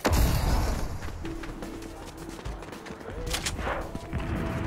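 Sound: gunfire from the video game Fortnite

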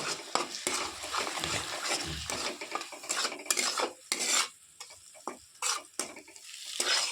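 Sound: mixing egg and turmeric into a bowl

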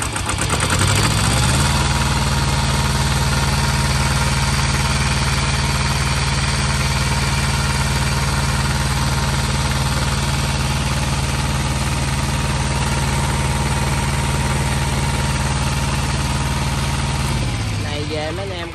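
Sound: 5 kW household generator engine running

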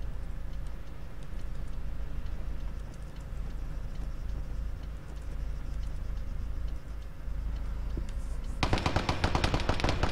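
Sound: gunfire in a firefight from a video game

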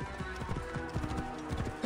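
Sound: horse hooves and whinny in video game Assassin's Creed Origins

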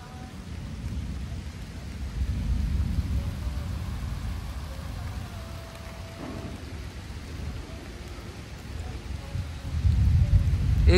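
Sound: heavy rain with thunder

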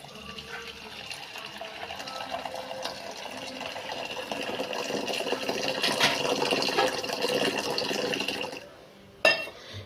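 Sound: pouring boiled Horlicks and milk powder tea

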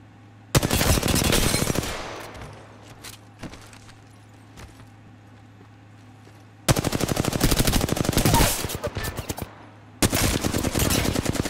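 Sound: gunfire in Apex Legends video game

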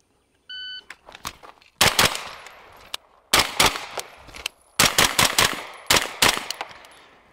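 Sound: rifle gunfire, 10 rounds fired at 5 targets

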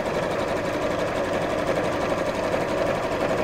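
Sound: sewing machine top stitching fabric

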